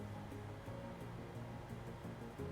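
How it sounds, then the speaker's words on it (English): A vacuum cleaner running upstairs in a house makes a steady, muffled whooshing drone that stays even throughout, heard through the ceiling with no voices. "It's just vacuum upstairs."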